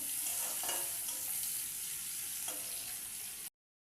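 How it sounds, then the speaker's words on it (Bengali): Steady sizzle of onions frying in the pan, with a couple of soft scraping stirs, then it cuts off abruptly near the end. "পেঁয়াজটা আমি লাল করে ভেজে নেব"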